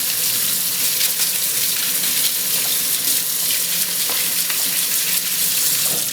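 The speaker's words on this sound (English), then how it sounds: "So we rinse the blades." Spiralizer blades rinsed under a running kitchen tap, a loud, steady close-up rush of water hissing and splashing into the sink without pause, with faint clicks of the blades being handled.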